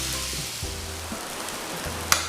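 Eggs fry in a pan for a Kerala-style egg roast, giving a steady close sizzle throughout, with a low hum underneath and a brief sharp clink near the end.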